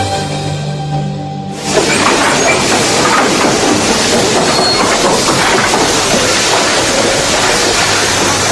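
A train sound effect in a Sherlock Holmes audio drama: a quiet tonal opening gives way after a moment to a loud, steady rush of rolling rail noise that continues to the end.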